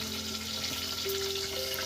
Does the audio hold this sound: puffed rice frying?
yes